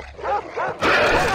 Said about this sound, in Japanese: あー、また犬の音が聞こえるな。